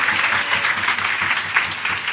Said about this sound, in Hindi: तालियां मत बजाइए।